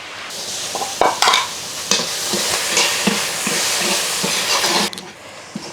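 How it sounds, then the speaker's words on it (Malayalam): Onions and shallots sizzle and sauté in a pan, a steady frying hiss that runs throughout with repeated scraping stir strokes, close and fairly loud, with no talking. "സവാളയൊക്കെ ഒന്ന് വഴട്ടാം സവാളയും കുറച്ച് ചെറിയുള്ളിയൊക്കെ അരിഞ്ഞ് വെച്ചിട്ടുണ്ട്"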